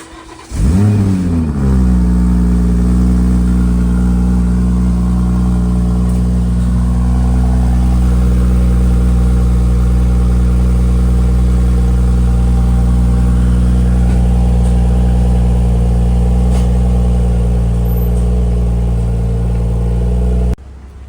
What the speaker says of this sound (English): Alibaba Valvetronic exhaust.